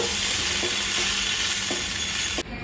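Vegetables with turmeric are stirred in a frying pan over a steady, loud oil hiss, with a few faint scraping knocks of the spoon before the sound cuts off abruptly near the end.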